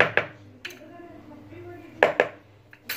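Clinking of utensils against a bowl in a few sharp bursts, with softer rustling and scraping in between as salad with lemon is tossed together.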